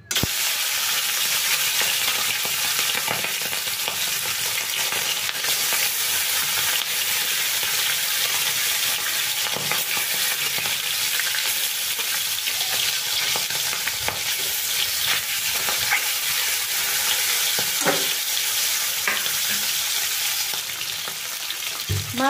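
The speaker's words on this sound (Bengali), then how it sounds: "তেল গরম হয়ে গেছে, দেখো ধোঁয়া উঠতে শুরু হয়ে গেছে। এখন আমি ফ্লেমটা একটু কমিয়ে দিলাম, আর মাছ আমি দুবারে ভেজে নেব।" Fish frying in smoking-hot oil over a lowered flame, a steady dense sizzle and crackle that runs unbroken and fairly loud throughout, with occasional sharper pops and spits.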